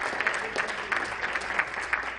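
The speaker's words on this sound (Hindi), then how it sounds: "एक बार जोरदार तालियां आपके लिए" An audience claps for a poet at a Hindi kavi sammelan, a steady wash of applause with rhythmic swells about every third of a second. It is fairly close and sustained, with no clear speech on top.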